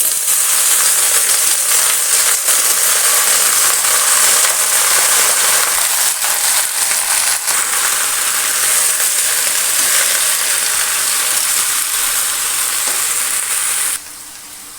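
Malabar spinach, pumpkin and potato cubes fry in a hot pan with a loud, continuous hiss and sizzle close by, which drops in level near the end.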